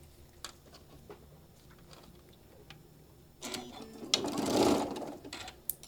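A sewing machine stitches a quarter-inch seam on a chain-pieced table runner, at first faint scattered ticks, then a short, louder run of steady, fast stitching nearby.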